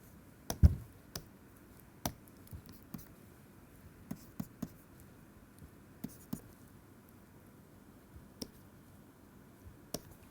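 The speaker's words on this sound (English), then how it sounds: "I can write it this way, no problem." Chalk or pen tapping and scratching while equations are written during a physics lecture on scattering, heard as sparse, quiet, irregular taps and short strokes with no talking.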